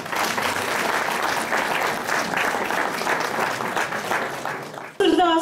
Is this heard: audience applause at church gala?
yes